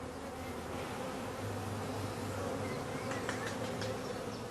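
Honey bee colonies hum at colour-coded nucleus hives holding young queens, a dense steady buzz with individual bees passing close by, no voices.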